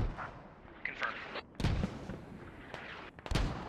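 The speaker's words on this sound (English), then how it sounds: "Ooh, Hero almost goes down to these mortars" Mortar rounds exploding in a military video game, a few separate booming impacts, the loudest two spaced over a couple of seconds, with quieter cracks and rumble between.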